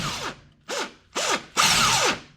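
An impact wrench is loosening a bolt on a Kawasaki Brute Force 750 ATV's suspension. It fires four short, loud whirring bursts that grow longer, and the last is the longest and most sustained.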